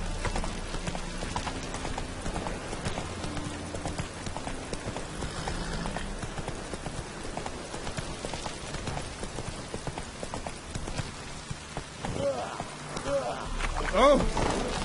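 Hoofbeats from Roach, the horse in The Witcher 3, drum in a fast, continuous clip-clop close up, blended with game ambience and some background voice.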